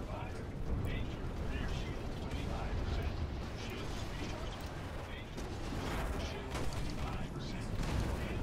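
Rapid spaceship weapon fire during a co-op Gladius dogfight against a Vanduul swarm in Star Citizen, a dense continuous rattle of bursts and mechanical whirring that holds steady throughout, with a voice talking over it.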